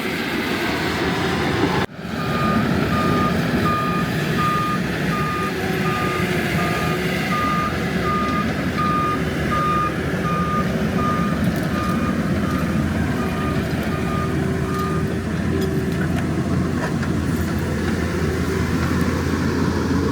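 An old Caterpillar bulldozer is moved out of a gravel lot, its heavy diesel engine rumbling steadily and loudly throughout, with a repeating reversing beep sounding over it after a brief dropout near the start.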